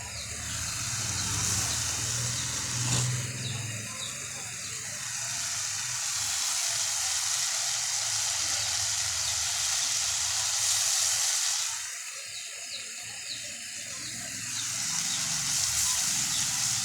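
Onions and masala sautéing in a pan for kurma, a steady sizzle with occasional louder stirring swells, continuous and close.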